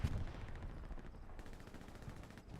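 Gunfire from the World War II shooter Hell Let Loose at night on Kursk, as a dense, rumbling stretch of rapid shots and machine-gun bursts that carries on without a break at moderate volume.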